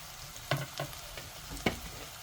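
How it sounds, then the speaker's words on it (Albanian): Onions fry in oil in a covered pan. A low, steady sizzle carries a few sharp clinks and clatters near the middle and later, with no one talking. "Qepa ka filluar të skuqet."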